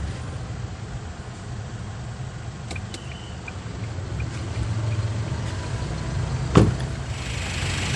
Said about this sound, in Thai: ในขณะที่พนักงานขายนะครับ ก็ สตาร์ทรถอยู่นะครับ วอร์มเครื่องนะครับ